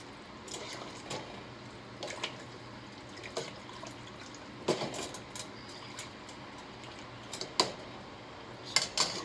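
Homemade vegetable soup stirred in a pot, with scattered close clinks and scrapes of a utensil against the pot over soft liquid sloshing.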